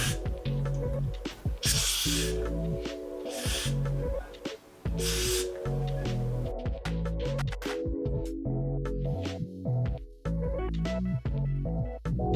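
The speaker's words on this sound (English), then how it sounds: "I'm going to do another spray, just 1 layer of spray on" Hair spray is sprayed onto wig lace in a few short, sharp hissing bursts spaced over several seconds, heard against steady background music.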